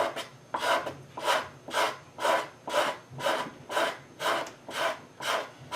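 Hide glue is scraped from a wooden serpentine chest with a hand scraper blade: nine or so evenly spaced rasping strokes, close and steady, with nothing else heard.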